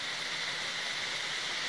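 A waterfall near an old road at night gives a steady, dense rushing hiss, unbroken and fairly soft, with no voices.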